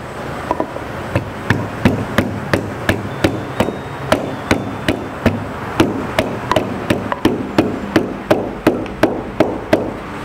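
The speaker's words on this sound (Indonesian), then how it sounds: "Sekarang kita tumbuk dulu kunyitnya." Turmeric root being pounded with a pestle for kunyit asam, a steady run of sharp, evenly spaced thuds about every half second, close and loud with no talking.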